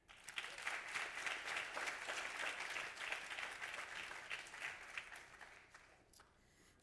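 A crowd applauds at a teen curators' exhibition opening at the Schomburg, a steady wash of clapping for about six seconds that thins and trails off near the end.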